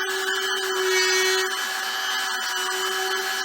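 A plastic welder melts plastic onto the grill of a 1970 Torino, giving a steady, close hiss with a constant hum and faint scraping, unbroken for the whole few seconds.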